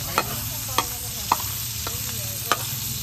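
Frog adobo frying in a pan, a steady sizzle broken by about five crisp scrapes of a spoon stirring the meat.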